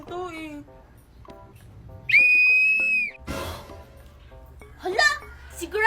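A toy whistle gives one shrill, steady blast lasting about a second, while children talk excitedly before and after it.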